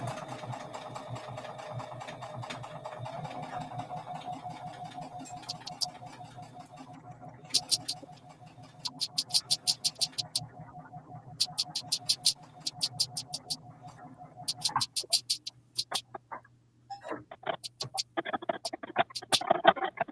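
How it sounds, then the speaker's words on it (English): A sewing machine runs a zigzag stitch through fabric with a steady, close mechanical whir that cuts out partway, followed by bursts of rapid clattering stitching separated by short pauses, with no one speaking. "Okay, so I'm going to go ahead and do the zigzag stitch."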